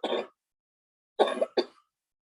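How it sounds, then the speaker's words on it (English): One short cough, a pause, then two more quick coughs close to the listener, with no talking around them. "Sorry, I've got a bit of a cough."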